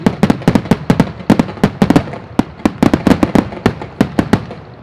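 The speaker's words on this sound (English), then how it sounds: "40 loud bangs used to increase in intensity." Aerial firework shells at the Abingdon Firework Festival, 4-inch and 5-inch with eight breaks each, fire a rapid volley of sharp, loud bangs, roughly thirty reports in five seconds in an uneven, building rhythm.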